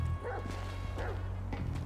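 Chop, the dog in GTA 5, barks three times at a steady pace, moderately close, over a constant low hum.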